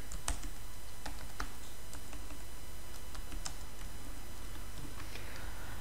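Typing on a computer keyboard while composing an email in Gmail, a near run of crisp irregular key clicks and taps over a faint steady hiss, with no voices.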